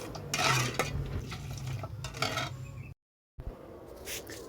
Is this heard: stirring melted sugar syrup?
yes